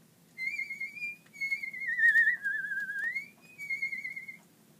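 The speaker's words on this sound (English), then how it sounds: "and he whistled." A person whistles a simple, wavering tune in a few clear phrases with short breaks between them, close and fairly quiet over a soft low hum.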